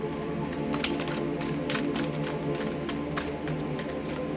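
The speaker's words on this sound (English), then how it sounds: "One more shuffle." Rapid papery riffling of tarot cards being shuffled, a steady run of soft flicks close by with no talking.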